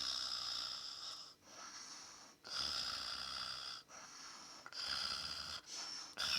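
A voice imitates snoring with three or four long, raspy, nasal snore-like sounds in a slow rhythm, close and moderately loud, separated by short pauses.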